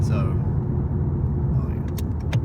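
A tuned car pulling hard on a launch, its deep engine rumble and road roar steady and loud throughout, with a few faint clicks near the end.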